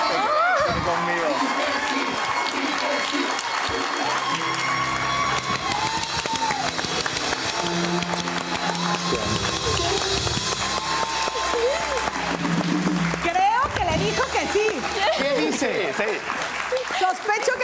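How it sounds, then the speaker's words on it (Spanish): TV talk-show studio audience applauds and cheers as a broad, rising crowd noise, heard under loud, overlapping voices and lively studio chatter throughout. "¡Fuerte el aplauso, señores!"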